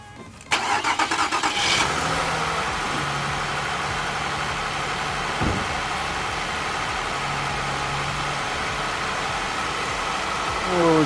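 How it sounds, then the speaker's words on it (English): Mazda MPV engine, just refilled with coolant after a radiator replacement, cranking in a quick rhythmic burst and catching, then settling into a steady close idle that runs on without talk. "Now we're gonna go ahead and start the car."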